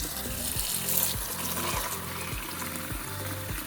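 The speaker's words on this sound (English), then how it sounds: "Rinse it a few times until the water is clear." Running water splashes steadily into a sink or strainer, with a soft rhythmic shuffling as soybeans are rinsed by hand.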